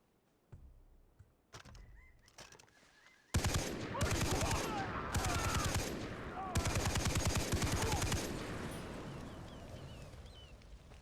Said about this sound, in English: I really prefer this light machine gun over my assault rifle